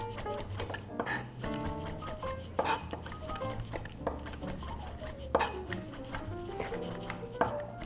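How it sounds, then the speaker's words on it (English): A new kitchen knife makes quick chopping strokes on a board while sage is prepared for a cranberry blueberry chutney, a rapid run of sharp taps mixed with clinking metal cookware, fairly close and moderately quiet. "Okay, so we'll give this guy a little quick chop."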